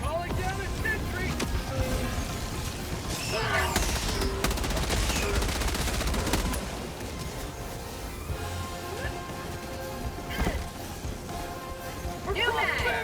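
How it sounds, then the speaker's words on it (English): Rapid automatic bursts from a sentry turret in Helldivers 2, loud sustained volleys with sharp impacts and a pause before more fire, over wind and game ambience. "Requesting sentry. Calling down a sentry."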